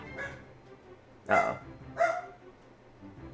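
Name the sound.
dog barking in the Jimmy Neutron video game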